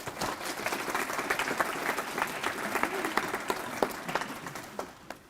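Steady applause from a crowd at a student life leadership awards ceremony, dense clapping that rises and holds for several seconds before tapering off.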